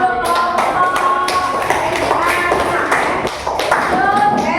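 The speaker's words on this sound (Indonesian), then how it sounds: "tepuk tangan untuk kelompok" A classroom breaks into applause for a student group, a dense burst of many hands clapping close by with voices mixed in throughout.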